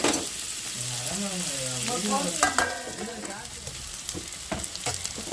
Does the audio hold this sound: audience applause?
no